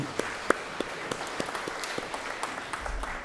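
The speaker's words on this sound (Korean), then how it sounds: "박수로 하나님께 영광 돌림." Scattered clapping from a church congregation during a Sunday worship service, sparse and uneven hand claps spread across the moment rather than a full ovation, moderately quiet with no talking.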